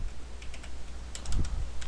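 Fingers type quickly on a computer keyboard, a close, brisk patter of key clicks with a few sharper taps near the end.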